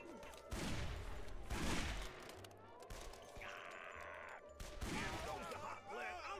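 Gunfire from the player's weapon in the shooter game Guns, Gore and Cannoli, coming in several bursts of sharp rapid shots over busy game sound, with a voice speaking now and then.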